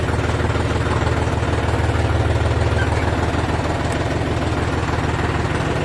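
A tractor engine runs steadily at close range after being driven into a muddy field, a continuous low rumble with a rough, throbbing idle and no pauses.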